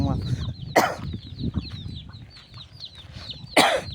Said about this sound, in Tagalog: yung mga sisiw natin, oh.